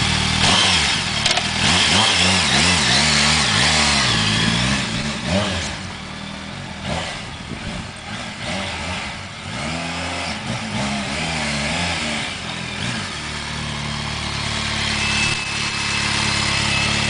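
A BMW K1200 GT motorcycle engine revs repeatedly, close and loud, rising and falling in pitch across several throttle blips before settling toward a steadier idle, with no talking.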